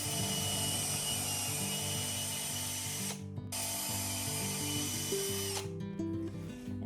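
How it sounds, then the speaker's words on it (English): A power drill whines loudly, shifting pitch as it bites through shoes into plywood, with two brief pauses before the motor spins up again. "we are gonna drill through Mickey's shoes and into the plywood."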